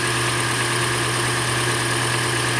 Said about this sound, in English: Engine running smooth as silk.